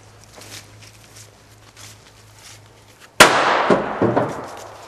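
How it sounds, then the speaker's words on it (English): A Dynatec BFIG airsoft grenade going off after being thrown, a sudden sharp pop followed by a loud hissing burst that trails off, with quiet shuffling beforehand. "So you sneak up and throw a grenade."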